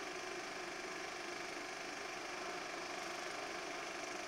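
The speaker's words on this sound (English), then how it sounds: "This is Pontiac's new 455 Super Duty engine." A 1974 Pontiac 455 Super Duty V8 engine running, a steady even hum with a faint mechanical whir, held at constant level and fairly quiet, with no voices over it.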